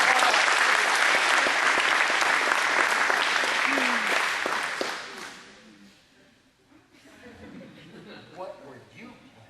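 Audience at an after-prom hypnotist show claps loudly and steadily for several seconds, then the applause fades away and a voice talks near the end.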